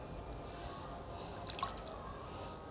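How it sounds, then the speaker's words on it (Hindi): Potato pieces rinsed in a bowl of water in a home kitchen, with soft dripping and sloshing sounds running steadily and quietly close by, without talk. "इस तरीके से मैं 2-3 पानियों से इसको धो लूँगी"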